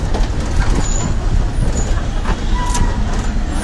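A bus on the road from Jolapalem, heard as a steady, loud low-frequency engine rumble and road roar that runs unbroken throughout with faint higher hiss on top.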